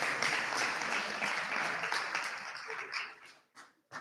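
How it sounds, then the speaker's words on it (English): Audience applause for a winner at an entrepreneurship event, a lively burst of many people clapping that holds steady and then thins out into a few last scattered claps before fading. "So Samuel Gonçalves, a big clap to Samuel"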